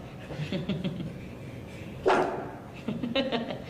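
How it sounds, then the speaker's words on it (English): Dogs barking in a few short bursts, one louder bark standing out near the middle, mixed with a person talking nearby. "They are dogs."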